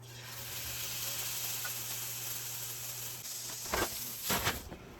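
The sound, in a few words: searing steak sizzling in pan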